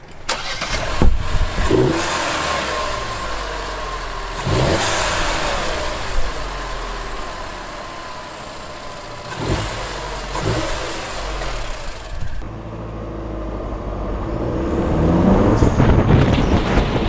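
A Vauxhall Corsa D 1.4 Black Edition fitted with a K&N air intake kit starts and revs repeatedly, sharp throttle blips rising and falling over idle, loud and close.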